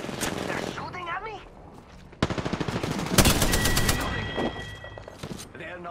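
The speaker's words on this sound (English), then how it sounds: "They're shooting at me?" Enemy gunfire aimed at the player in a shooter video game, rapid bursts of shots cracking in dense volleys, loud and close, with a person talking over parts of it.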